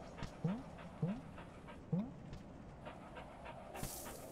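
A dog pants rapidly in the video game Animal Well, with a few short squeaky whines breaking in at a steady pace, close and moderately loud.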